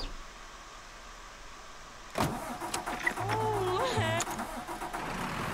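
A car engine starts in the video game Mafia 3, with a sudden crank that catches into a rumbling idle, heard up close and continuing to the end, while someone talks lightly in the background.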